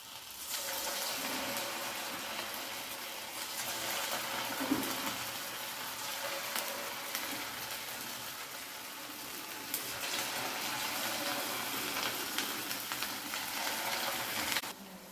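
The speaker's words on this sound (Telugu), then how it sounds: "ఆయిల్ హీట్ ఎక్కిన తర్వాత మనం ముందుగా ప్రిపేర్ చేసుకున్న కర్రీ ఫ్లవర్స్ని ఇలా ఆయిల్లో వేసుకోవాలి" Cauliflower florets for Gobi Manchurian fry in hot oil in a kadai, giving a steady, loud sizzling hiss that runs unbroken for the full length, with no voices over it.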